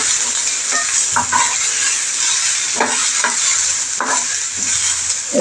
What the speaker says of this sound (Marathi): जरा कांदा बावेपर्यंत भाजून घेते